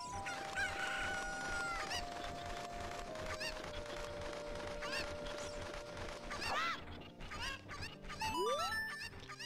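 Cuckoos, the chicken-like birds of Zelda Ocarina of Time, fill a busy game soundscape with repeated clucks and squawks, a long drawn-out crowing call, and rising whistled tones near the end, with background music underneath.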